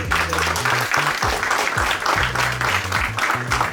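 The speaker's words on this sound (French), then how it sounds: "Franchement, on peut les applaudir." Audience applause at a tournament gathering, steady crowd clapping throughout with a rhythmic musical beat running underneath.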